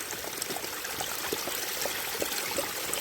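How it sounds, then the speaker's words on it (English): A woodland stream flows steadily with a bright, constant trickling wash, close and continuous without talk. "Sounds more relaxed than the sound of the stream."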